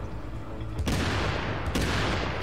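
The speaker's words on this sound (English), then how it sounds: "whenever I deploy this Seeker Mine, it's going to do even more damage" Two sharp, loud blasts of Seeker Mine explosions in The Division, the first near the one-second mark and the second about 0.8 seconds later, each bursting over a dense, rumbling gunfire-like game soundscape.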